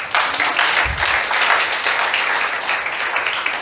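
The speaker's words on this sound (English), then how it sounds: "Give yourselves a round of applause" A church congregation at a Sunday service breaks into a round of applause, a full, sustained patter of many hands clapping together at close range.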